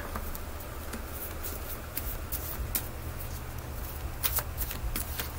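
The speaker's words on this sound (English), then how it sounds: "Alright, let's get some cards. I'll shuffle these in between." Tarot cards being shuffled by hand, a continuous soft papery riffling and tapping with scattered sharper flicks over a steady low background hum, fairly close and moderately quiet.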